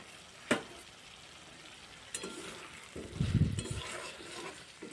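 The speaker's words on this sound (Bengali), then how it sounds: "আলু পটল মূলো দিয়ে কিছুক্ষণ কষিয়ে নেব" Pre-fried potato, pointed gourd and radish are sautéed in a pan for a mixed vegetable curry, giving a soft, steady sizzle with stirring scrapes and a couple of sharp metal clinks.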